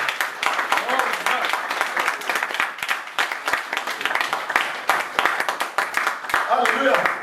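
A church congregation applauds the Lord with dense, continuous clapping from many hands. The clapping stays loud and even throughout, with occasional voices mixed in.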